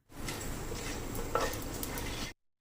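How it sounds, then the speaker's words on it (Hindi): Whole spices dropped into hot oil for Arabian mutton mandi: a steady, dense sizzle and crackle right up close, continuing at an even level for about two seconds before cutting off abruptly. "मैं ये सब डाल देती हूँ ऑयल में।"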